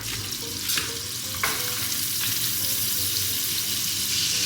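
Amish country roll butter sizzles and crackles steadily in a hot pan, a loud continuous fry with a few soft scraping stirs and clinks over it, no talking.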